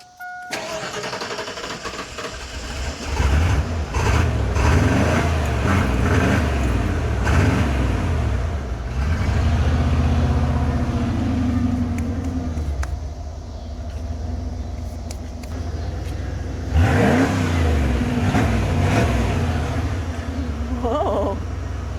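A 1993 Ford F-150 pickup, with a new idle air control valve and throttle position sensor fitted, cranks and starts, then idles with a deep rumble and revs up twice, the second rev sharp and loud near the end.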